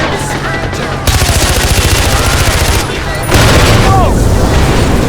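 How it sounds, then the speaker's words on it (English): Rapid machine gun bursts from a dashboard-mounted vehicle gun in Far Cry 4, loud and close, firing in fast rhythmic volleys with brief pauses, mixed with engine rumble and voices talking over the action. "There's a gun underneath the dashboard!"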